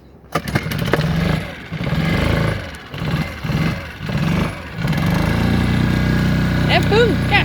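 A repaired boat engine sputters to life after a cranking attempt, then runs loud and close with an uneven, surging idle that settles into a steady mid-pitched drone, with excited voices breaking in briefly.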